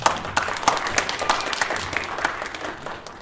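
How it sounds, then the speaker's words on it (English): Audience applause for a panel at a tech and innovation summit, a steady wash of many hands clapping at moderate level, with faint voices mixed in. "Give our panel a round of applause"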